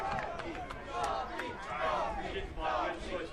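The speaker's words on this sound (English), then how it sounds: "Crowd getting a little excited here as the game starts getting closer." A crowd at a high school boys' ultimate frisbee final cheers and shouts in rising swells, with voices and a commentator talking over the excited noise.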